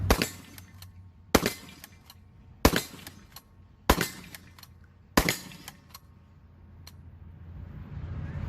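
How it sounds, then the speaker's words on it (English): A MAG-7 M1 shotgun empties its magazine in five loud, sharp blasts spaced evenly about a second apart. Each shot is followed by a short ringing echo and a faint mechanical clack. "Mag dump with the MAG-7."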